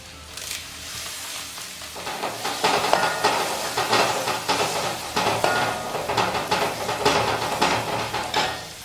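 Curry leaves sautéing in a pan for Kerala-style spicy tapioca dry fry, a steady close sizzle with repeated scraping stirs and occasional utensil clinks throughout.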